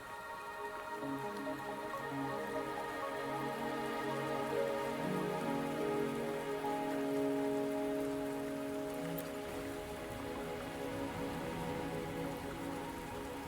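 Rain falls in the video game Wuthering Waves as a soft, steady patter on surfaces, with sustained tones from the game's ambient music underneath and no voices.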